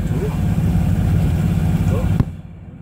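The inboard engine of an Oceanis 31 sailboat running as the boat leaves the harbour, a steady low throbbing drone under a voice, cutting off abruptly near the end.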